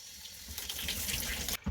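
Water gushes steadily from a newly installed Delta Foundations bathtub faucet on a Delta Classic 400 curve tub, a close, continuous rushing flow that cuts off abruptly near the end.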